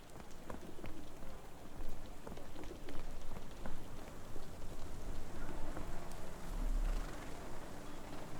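Steady rain falls in a Sherlock Holmes: The Awakened game scene, a dense, even patter of drops with scattered sharper taps, moderately loud and continuous with no voices.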